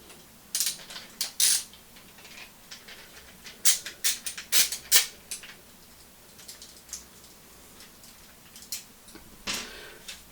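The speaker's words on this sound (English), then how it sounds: "This is where a screwdriver comes in handy. So you need to take off this screw here at the side." Screwdriver working screws out of the casing of a WD Elements 6TB external hard drive, giving sparse, close, faint ratcheting clicks and ticks in irregular short bursts, alone with no voice.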